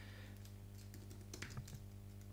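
Soft typing on a computer keyboard while writing code, a few scattered light key clicks over a steady low electrical hum, faint and close.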